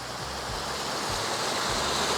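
A river rushing along Slades Beck on the route up Skiddaw, a continuous loud, close wash of flowing water.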